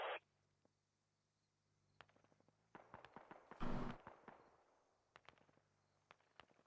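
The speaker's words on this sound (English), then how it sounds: "mortar rounds coming danger close between your 2 positions" Mortar rounds exploding close by in a military video game, a loud burst mid-clip amid scattered sharp cracks and distant pops, with quiet stretches between.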